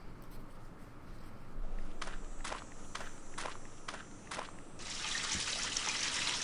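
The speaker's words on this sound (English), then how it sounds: "Somebody's having a bath." Water running to fill a bath, a steady broadband rush that starts partway through after a series of sharp, evenly spaced knocks like footsteps or typing, heard indoors at moderate distance.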